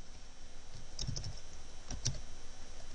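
Quiet typing on a computer keyboard, a few scattered clusters of soft key clicks at close range with background hiss and no talking.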